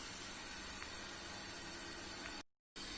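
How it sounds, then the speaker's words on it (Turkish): A pot of liquid boils on a kitchen stove, giving a steady, soft hiss of bubbling and steam that runs unbroken and fairly faint, with a brief dropout near the end. "Tam 2 dakika kadar kaynatacağız arkadaşlar"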